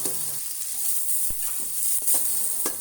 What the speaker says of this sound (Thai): เอาน้ำมันใส่กระทะ แล้วใส่กระเทียมและพริกที่โขลกหยาบๆลงไปค่ะ